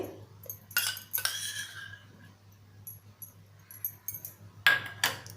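Spoon stirring kokum sherbet with soaked sabja seeds and chaat masala in a glass, giving a few separate bright clinks and taps with quiet gaps between them, close and fairly faint.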